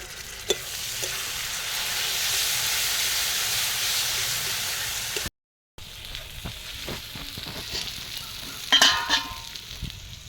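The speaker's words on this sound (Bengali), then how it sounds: "পেঁয়াজের সাথে আমি টমাটোটাও ভেজে নেবো" Onion and tomato with spices fry in a pan for soybean curry, a steady sizzling hiss with stirring clatter, broken by a brief silent gap before sparser crackles and a louder scrape near the end.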